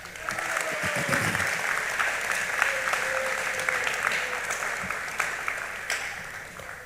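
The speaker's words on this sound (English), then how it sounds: "Let's give them all a round of applause." A crowd claps steadily for several seconds at a high school senior awards ceremony, a dense, even wash of applause from many hands, with a little voice murmur near the start.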